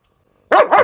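A German breed dog gives two quick, loud barks close by after a moment of silence.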